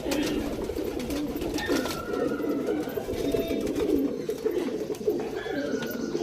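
A flock of home-kept pigeons, including kalanka birds, coos steadily and continuously close by, with overlapping low throaty calls and a faint rustle of wings.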